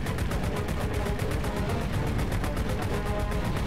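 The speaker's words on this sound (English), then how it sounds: "Did you hear that click and then the gunfire?" Dense, rapid bursts of gunfire rattle continuously at high volume, a steady barrage without pause.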